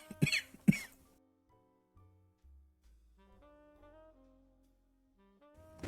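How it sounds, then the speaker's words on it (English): Two sharp, loud coughs burst out close to the microphone near the start, followed by quiet tonal background sounds from a card game and a short noise at the end. "Let me just cough up a lung."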